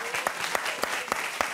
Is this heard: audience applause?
yes